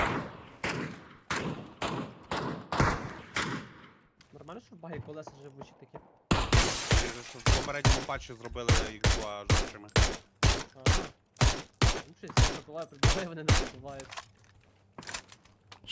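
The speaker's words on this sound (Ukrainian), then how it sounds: "Постріл був з жовтої згори." Gunfire rings out in the video game PUBG on the Erangel map as rapid bursts of sharp, repeated shots, some distant and some louder and closer, continuing steadily throughout.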